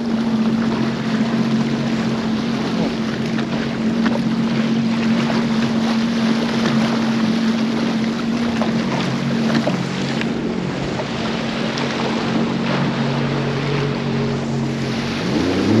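A boat pounding through rough whitecap waves on Lake Erie, with a constant loud engine drone, rushing water and wind buffeting the microphone throughout.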